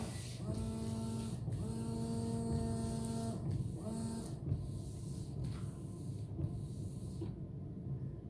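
Windshield wipers on a wet 2007 Subaru Forester sweep back and forth in a repeated whirring rhythm, a few passes with a motor whine, fairly faint over a steady hiss.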